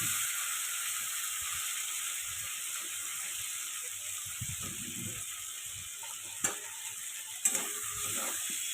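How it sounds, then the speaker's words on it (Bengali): Salted potatoes sizzle in spiced oil for a rohu fish curry, a steady close frying hiss broken by a few sharp clicks and scrapes as a spatula stirs the pan near the end. "নুন দিয়ে ভাজা আলুটা।"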